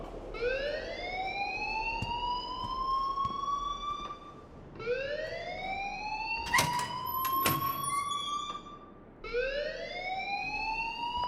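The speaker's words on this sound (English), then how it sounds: "please turn off that alarm since that's your job" A wailing fire alarm in the Life Is Strange video game rises in long repeated sweeps, three cycles of steady climbing tone with a few brief clicks and clatters partway through.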